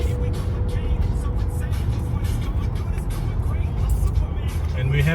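Steady road roar from a car cruising on a European highway, with a green Ferrari nearby; the broad, constant engine and tire rumble stays loud throughout, with people talking over it.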